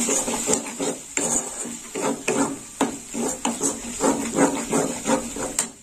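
A utensil scrapes and knocks repeatedly in a pan as ground coriander, red chili and turmeric are stir-fried with brinjal and cabbage, giving close, irregular clatters and rasps with no talk.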